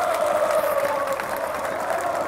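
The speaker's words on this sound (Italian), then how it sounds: "Como sta prendendo gli applausi del suo pubblico" Stadium fans applaud the Como football team as players walk toward the stand after a Serie B draw with Benevento, a broad, steady roar of clapping and crowd noise from a distance, continuous and even throughout.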